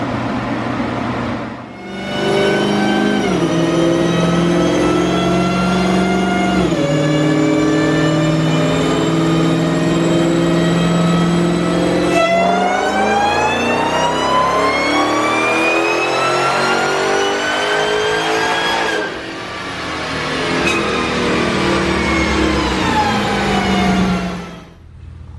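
A Dodge Demon making over 900 rear-wheel horsepower roars through a loud, sustained dyno pull on cooler intake air, its note climbing steadily through the gears with brief dips at each shift before easing off at the end.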